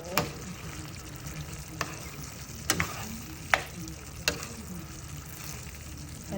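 Broccoli stir-frying in a hot pan for a beef and broccoli dish: a steady quiet sizzle broken by a handful of sharp clacks as a utensil strikes the pan.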